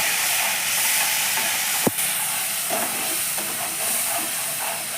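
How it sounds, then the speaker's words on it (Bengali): Chhole masala with water frying in a pan, making a loud, even steamy hiss with one sharp knock and a few soft stirring scrapes. "এবার মশলাটাকে আমি সুন্দরভাবে একটু কষে নিচ্ছি।"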